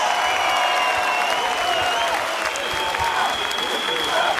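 A crowd at a political rally in Turkey applauds the Ankara mayor, a dense, steady wash of clapping that fills the space, with a voice faintly audible underneath.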